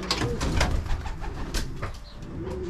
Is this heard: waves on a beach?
no